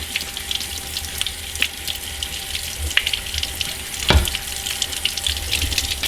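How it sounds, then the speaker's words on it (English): Tap water runs steadily as a glass plate being etched is rinsed in a sink, a continuous close hiss and splash with a few sharper clinks of glass, and no talking. "So what I do is just really quickly rinse it off in the middle."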